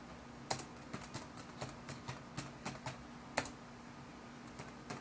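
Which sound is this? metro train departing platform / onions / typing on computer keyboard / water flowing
typing on computer keyboard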